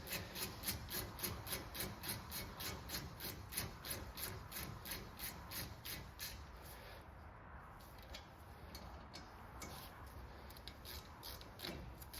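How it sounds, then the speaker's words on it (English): A 7mm Allen key tightens the brake caliper slider bolts on a Ford Transit. Close, steady rhythmic ratcheting and rubbing strokes repeat throughout, with no talking. "take your 7mm Allen key, being careful not to cross thread the threads."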